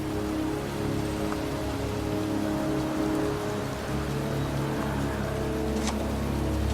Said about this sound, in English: It's cold. It's raining. I'm standing outside getting soaked.